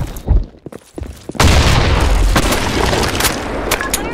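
Grenade explosion in the shooter BlackShot, a loud, heavy boom that bursts in after a few scattered shots and then trails off into a long, rumbling wash of noise.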